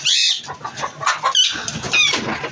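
Hens cluck close by in short, busy bursts, with a few sharper squawks and some rustling movement.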